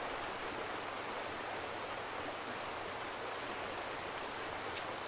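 Steady outflow of water in The Vanishing of Ethan Carter, a constant dense hiss-like rush at even loudness throughout, with no voices.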